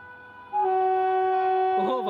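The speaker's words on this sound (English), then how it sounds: "Oh man, dual honking." A WAP5 electric locomotive hauling the Shatabdi Express sounds its dual horn in one loud, sustained, steady blast, rising sharply from a quieter background and holding to the end.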